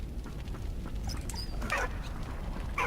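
A dog whimpers in the video game Valiant Hearts, thin high whines and short yips rising over a dense, steady rumbling background, with no voices.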